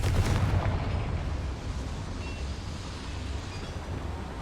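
Confringo blasting spell in Hogwarts Legacy, a single deep boom at the start that trails into a long rumbling, fading roar, with no voices over it.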